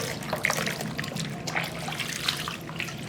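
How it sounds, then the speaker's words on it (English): Water drains from a basin after a shirt soaks in a water and conditioner mixture, a soft continuous trickle with scattered gurgling drips, close and fairly quiet. "what we're gonna do is drain our water."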